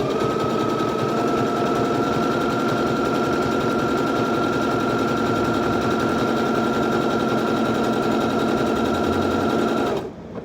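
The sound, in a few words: sewing machine stitching circle appliqué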